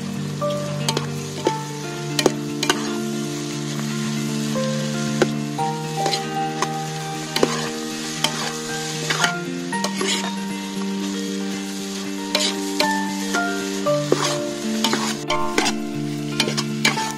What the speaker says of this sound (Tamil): இப்போ நம்ம உளுத்து வச்சிருந்த இட்லி போட்டுக்கலாம்